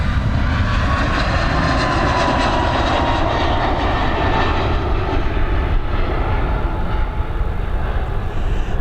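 A jet aircraft departing Dublin Airport roars with loud, continuous broadband engine noise that holds steady throughout and fades slightly toward the end.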